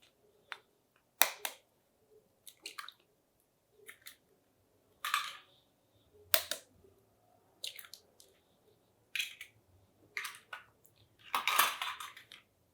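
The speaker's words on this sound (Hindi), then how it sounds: "तो बाउल में हम अपने अंडों को तोड़ लेंगे।" Eggs cracked into a bowl while making a blender peanut sponge cake, heard as a series of sharp, separate shell taps and clinks against the bowl, spaced unevenly with brief pauses, close and fairly quiet.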